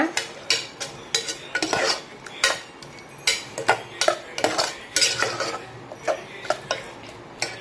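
Broad beans being sautéed and stirred in a pan after liquid is poured in, a rapid string of sharp metal spoon clinks and scrapes against the pan over a faint sizzle, close and busy, without talk.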